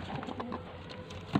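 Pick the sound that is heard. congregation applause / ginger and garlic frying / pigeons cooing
pigeons cooing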